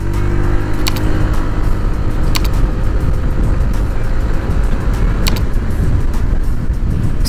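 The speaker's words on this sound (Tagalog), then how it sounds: "subukan natin itong Honda PCX 160 sa isang maiksing arangkada" A Honda PCX 160 scooter pulls away in a short burst of acceleration, its engine a loud, close, steady drone with a few sharp clicks over the run and no voices.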